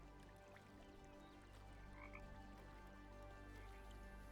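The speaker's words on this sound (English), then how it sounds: "Hello, frogs." Frog croaks from the video game The Talos Principle 2, a soft scattered chorus over a steady low ambient hum, fairly faint and continuous with no talking.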